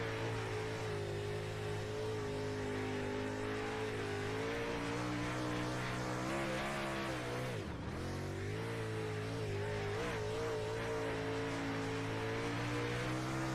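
A race car engine in the iRacing sim game drones steadily at high throttle during a Pro Series race, loud and continuous, with one sharp dip in revs and a quick climb back midway.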